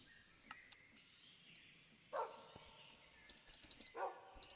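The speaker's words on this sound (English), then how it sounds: "Pet the dog." A dog in the Minecraft video game gives two short, bright barks about two seconds apart, clear over a quiet game background with faint chimes.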